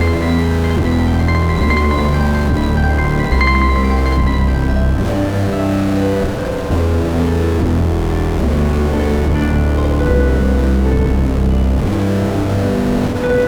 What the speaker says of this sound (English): when I plug the full range of my harp into this delay, it all sounds like this